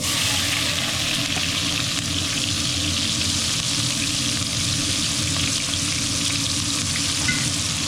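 Onion fries in a hot pan with a loud, steady close-up sizzle. The hiss stays continuous and even throughout, with no voices over it.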